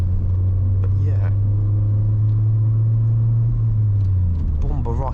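Honda Civic EP2 driving on the road, a steady, loud low engine and road drone throughout with faint talk over it.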